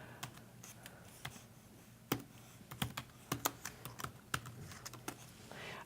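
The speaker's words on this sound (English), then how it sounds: "So we'll just type in Shenandoah" Quiet typing on a computer keyboard, a loose run of light clicking keystrokes that grows busier midway, with no voices.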